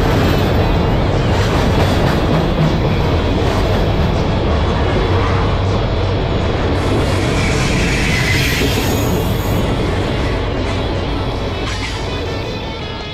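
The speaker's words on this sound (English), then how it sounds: "Holiday train." A holiday train rumbles steadily past at close range, wheels clattering and squealing on the rails throughout, with faint voices in the background.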